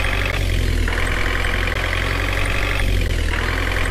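A car engine in a browser video game drones steadily at a loud, constant pitch, a synthetic idling hum with no break and no talking.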